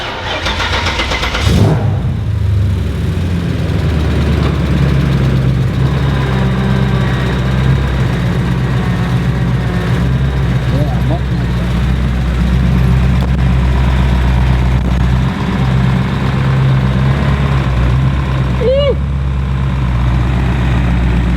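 BMW E34 with a rebuilt S62 V8 starts up with a sharp burst and then settles into a deep, steady idle and low rumble, close by in a workshop, running continuously with no speech.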